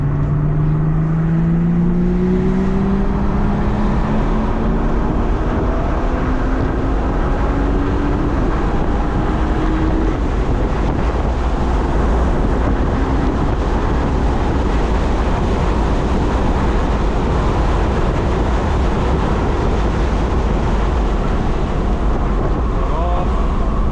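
A BMW on a race track roars with a loud, continuous engine drone, its pitch climbing in sweeps as it accelerates along the lap. The engine noise fills the whole stretch.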